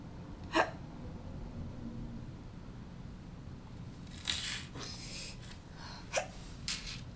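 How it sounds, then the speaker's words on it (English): A person's hiccups, a few sharp abrupt gasping bursts spaced irregularly over quiet background hum, close to the microphone. "Oh, these hiccups."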